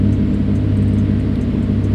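Car engine idling through a stainless steel exhaust, a loud, close, steady low rumble with a throbbing pulse and no break.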